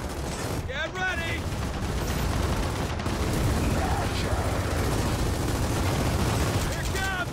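Dense, continuous gunfire and rumbling blasts from the Gears of War 4 video game in co-op play, loud and sustained, with brief voices breaking through near the start and end.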